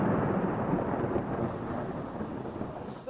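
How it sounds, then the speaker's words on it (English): A low, sustained rumble of thunder rolls through a Toronto snowstorm, a deep, broad boom that fades slowly over a few seconds with no voices present. "Snow drifting rapidly, hitting Toronto streets, and booming thunder with flashes of lightning adding to the drama"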